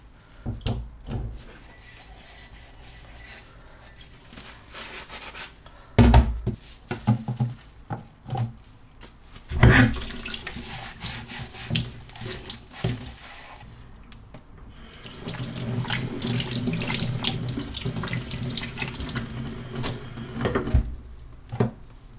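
Tap water runs into a kitchen sink during dishwashing, steady splashing with clinks and knocks of dishes, swelling louder and fuller in a sustained gush near the end.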